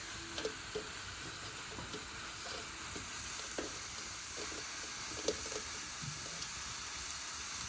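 Pork fat frying in a pan at an outdoor verandah camp cooking Thai-style food, a soft steady sizzle with scattered small crackles, fairly faint and close, with no voices.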